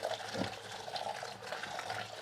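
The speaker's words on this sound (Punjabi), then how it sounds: "ਟੂਟੀ ਦਾ ਪਾਣੀ ਚੱਲਦਾ ਉੱਪਰ" Tap water running over cluster beans as they are washed in a kitchen, a steady broad rushing splash throughout the short stretch, with no talking.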